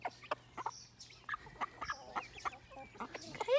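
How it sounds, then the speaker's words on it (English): Young chickens cluck and peep in a run of short, bright calls at close range, several birds overlapping with no voices over them. "And an update on our chicks."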